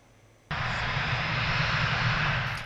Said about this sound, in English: the plane believed to be carrying the former leader of the Philippines, Rodrigo Duterte, landing in Rotterdam